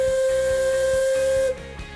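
Steam locomotive whistle on the Alishan Forest Railway in Taiwan, a loud, steady high-pitched blast held for about a second and a half over hissing steam, then cutting off abruptly, leaving the steam hiss.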